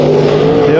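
Dirt track race cars roar past in a sustained, loud engine drone with steady harmonic tones, heard close and continuous for under a second.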